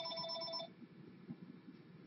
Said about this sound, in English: Phone. I know. I usually don't get the phone. Keep calling until she answers.